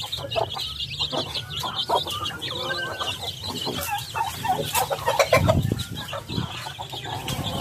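A flock of chickens clucking and chattering continuously at moderate distance, with occasional louder squawks.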